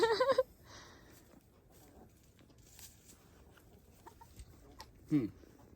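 Chickens in a backyard coop give a short burst of clucking at the start and another brief cluck near the end, with quiet rustling and movement in between.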